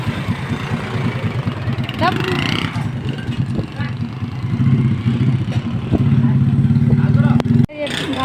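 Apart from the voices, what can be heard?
motorcycle engine running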